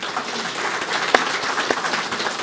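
An audience at an EMT academy graduation ceremony applauds for the graduating students, with steady, moderately loud clapping and a few sharper individual claps standing out.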